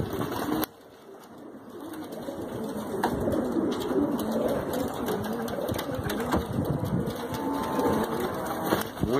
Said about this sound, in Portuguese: Olha os pombos aqui